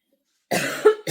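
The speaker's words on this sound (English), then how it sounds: "I still have hay fever, so I'm coughing and sneezing and sniffling." A single short cough from someone with hay fever sounds close and clear in a quiet indoor space, followed by a brief catch of breath.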